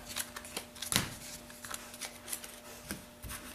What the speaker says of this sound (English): after a legacy shuffle like that